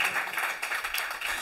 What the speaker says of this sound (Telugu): మీకు ఉద్యమం ఉంటే చప్పట్లు కొట్టండి